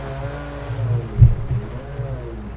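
A GT3 race car engine in the Project CARS 2 video game, set in the rain at the Nürburgring, holds a low, steady rumble and gives a couple of short revving pulses, one louder jab near the middle.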